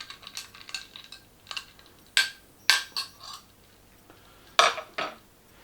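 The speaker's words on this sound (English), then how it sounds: "Another light stir" A spoon lightly stirring a cocktail in a glass: scattered bright clinks and taps of metal against glass, a few sharper strikes amid softer ones, close and isolated in a quiet room.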